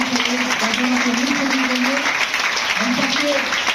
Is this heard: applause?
yes